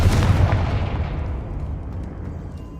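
A Confringo fire spell explodes in the Hogwarts Legacy video game, a loud deep boom at the start that rumbles and slowly fades away over a few seconds.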